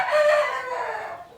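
A chicken rooster crows once, loud and close, a single strained call that trails off within about a second with no other sounds around it.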